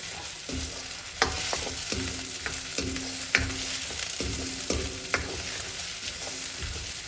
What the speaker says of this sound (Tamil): இஞ்சி பூண்டு பேஸ்ட் கொஞ்சம் சேர்க்குறேன். பச்சை வாசனை போடுறதுக்காண்டி அந்த நடுவால் போட்டு அந்த எண்ணெயில் கொஞ்சம் ஃப்ரை பண்ண விடுறோம்.